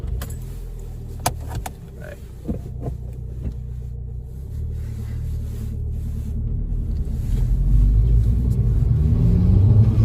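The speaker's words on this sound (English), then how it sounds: "So under the bonnet, it's got a 2-litre turbocharged engine." A 270 bhp MK5 Golf GTI stage 2 with a 2-litre turbocharged engine and ram air induction kit pulling away, a low rumble building steadily louder, with a few clicks and thumps early on.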